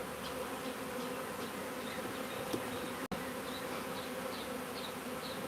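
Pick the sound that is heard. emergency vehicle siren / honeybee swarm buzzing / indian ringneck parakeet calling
honeybee swarm buzzing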